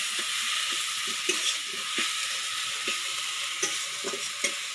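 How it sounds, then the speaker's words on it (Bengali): Spice paste with tomato, cumin and ground cumin stir-fried in a pan for a village-style prawn and spinach dish: a steady bright sizzle with a spatula scraping and tapping at irregular intervals, close and moderately loud, no voices. "এবারে টমেটো দিয়ে দিচ্ছি মশলাটা ভালো করে কষিয়ে নিচ্ছি"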